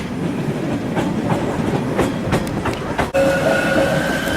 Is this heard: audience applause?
no